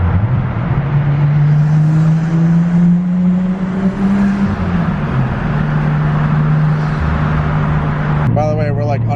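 A 90s Nissan cruising through an underwater highway tunnel in Alabama hums with a steady, droning engine note and road rumble that shifts pitch gradually, with a brief voice near the end.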